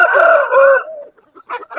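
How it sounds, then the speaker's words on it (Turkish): An Urfa breed rooster crows loudly and close by, one drawn-out wavering call lasting about a second, followed by a few short clucks. "Urfa horozum var. Onun oğlu bu."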